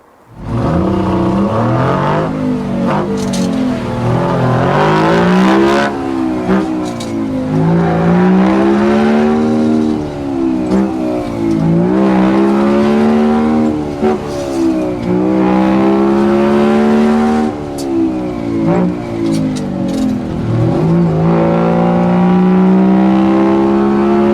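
An old heavy truck with a 13-speed Road Ranger gearbox drives along, its loud engine droning and climbing in pitch through repeated gear changes, each shift dropping the revs before rising again.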